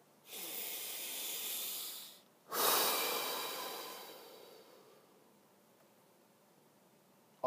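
Slow, deep breathing: a long airy inhale, a short pause, then a long sighing exhale that fades away. Close and clear, with no other sound around it.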